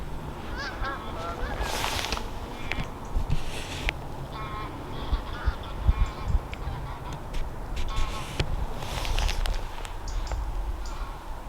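A flock of geese honks repeatedly as the birds come in to land nearby, calls overlapping in bursts over steady outdoor background noise.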